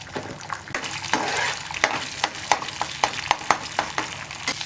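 Chicken pieces seasoned with pepper and salt frying in oil in a pan, a close crackling sizzle broken by repeated sharp stirring scrapes and clicks, with no voices.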